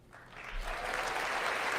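A chamber full of people applauding during the State of the Union address, clapping swelling up quickly from quiet into a loud, sustained roar that holds steady to the end.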